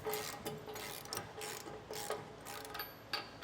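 A wrench ratchets as bolts are snugged down on a B&W Patriot fifth wheel trailer hitch being installed on a 2016 Ford truck, with a quick run of close metallic clicking and clanking over the whole stretch.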